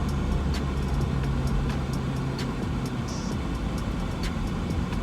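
A Porsche Macan with a four-cylinder engine pulls ahead, a steady engine and road hum heard from inside the cabin at moderate level, without talk.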